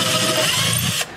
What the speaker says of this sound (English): So now I'm going to drill down through this and clean all the holes out.